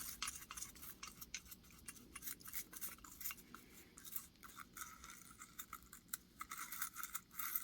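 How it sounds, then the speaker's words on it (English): A brush scrubs rust off a metal part in quick, rhythmic scratchy strokes, fairly faint and close, with no voices. "Just brushing all that rust."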